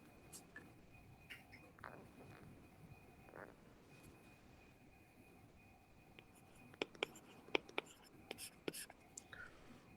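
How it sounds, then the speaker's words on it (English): A pen or pencil scratches out a math proof on paper in faint, intermittent strokes and taps, quiet and close, with soft murmured speech in the background. "Okay, let me write down."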